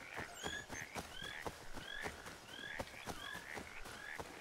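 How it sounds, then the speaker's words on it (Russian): Frogs in Assassin's Creed III croak in a steady rhythm, about two calls a second, faint and distant over a soft outdoor background. "Лягушки хватает."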